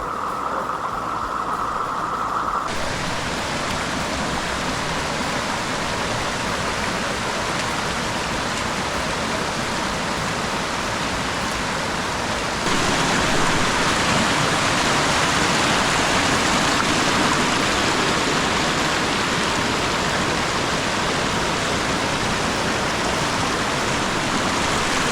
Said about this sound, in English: Well, this is Rainbow Falls, folks.